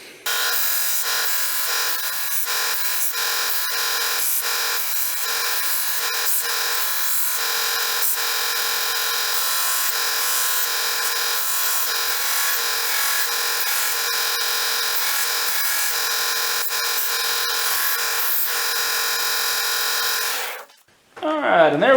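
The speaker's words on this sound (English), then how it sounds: "let's get this rust cleaned off so we can figure out a plan of attack" A power tool cleans rust off a homemade knife, giving a loud, continuous high-pitched grinding whine that runs for about twenty seconds before cutting out near the end.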